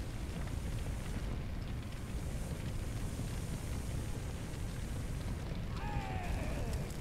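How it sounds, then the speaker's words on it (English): A steady roaring crackle of fire burning in Firefighting Simulator, a constant dense rush that fills the whole stretch, with faint speech near the end. "Guys, I'm surrounded by fire."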